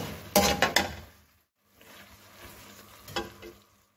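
Chopped garlic sizzles in about two tablespoons of oil in a pan, with a loud crackling burst and utensil clinks at first, then a brief silence and a softer, steadier sizzle that fades out.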